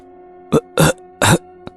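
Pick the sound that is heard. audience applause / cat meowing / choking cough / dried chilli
choking cough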